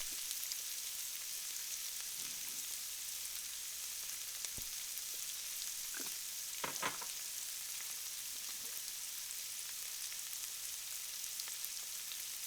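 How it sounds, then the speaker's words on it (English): A beet veggie burger mixture spiced with celery seed, mustard and thyme cooking in a pan, giving a quiet, continuous hiss of frying with a few faint clicks and scrapes and no voices. "So cook this mixture really well till the beets are completely done"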